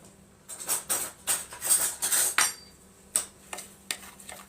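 A spoon stirs flour, semolina and salt together in a bowl for bread dough, producing close, bright scraping and clinking strokes in uneven bursts with short pauses between them.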